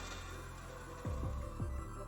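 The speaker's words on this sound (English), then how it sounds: "Gonna hit it with the hairdryer again." A hair dryer's steady motorized whoosh with a low humming drone runs throughout, interrupted by a few soft thumps partway through.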